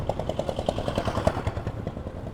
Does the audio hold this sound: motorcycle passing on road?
yes